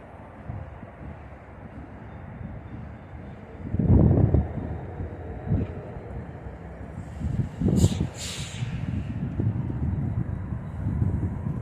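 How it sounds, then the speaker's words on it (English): Strong wind blows along a railway line on a cloudy day, a low rumbling roar that buffets in gusts with louder surges partway through. "There it goes again with that strong wind."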